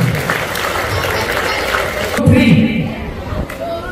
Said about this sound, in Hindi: चलिए एक बार जोरदार तालियां माशाल्लाह बच्ची के।